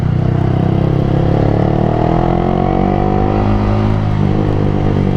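Yamaha R15V3 motorcycle fitted with a Ronin Hanzo aftermarket exhaust, idling and revving steadily with a loud, close, continuous engine drone and shifting pitch, no voices.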